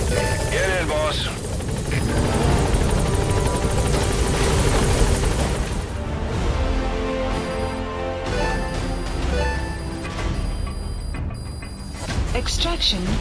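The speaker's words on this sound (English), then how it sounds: "Support helicopter has arrived." Support helicopter arriving at a landing zone in Metal Gear Solid V, a loud steady rotor thrum sustained throughout, with game voices talking over it.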